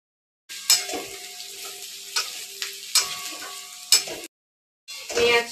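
Onion frying in a pan for a chicken momo filling, a close steady sizzle broken by repeated scraping stirs, with a brief pause near the end before the sizzle returns.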